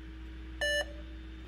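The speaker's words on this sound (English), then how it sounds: "Now you're gonna hear the beeping sound and get this post error screen." A single short electronic beep from an HP 840 G6 laptop signalling a POST error after a memory card install, clear and isolated over a low steady fan hum.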